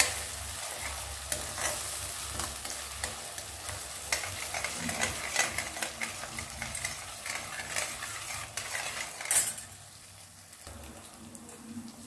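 Ingredients cooking in hot oil in a pan give a steady sizzle with frequent stirring scrapes, the crackle dropping off sharply near the end; no one speaks.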